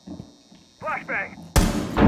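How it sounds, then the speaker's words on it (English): Flashbang grenade bursting in Rainbow Six Siege, a loud broadband blast arriving suddenly after a voice and lingering as a bright ringing wash, cut by a brief dip before a second surge. "Flashbang."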